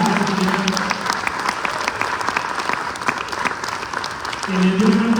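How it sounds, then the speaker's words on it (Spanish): An audience claps warmly at the opening of a state theatre festival, a sustained wash of applause with a voice heard over it at the start and end. "un saludo, abrazo y aplauso a Arabella Medrano"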